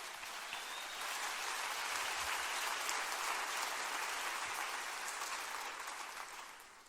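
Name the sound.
congregation applause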